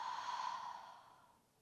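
A single long, audible exhale through the mouth during a yoga flow, a breathy rush of air close to the microphone that fades gradually over a second and a half.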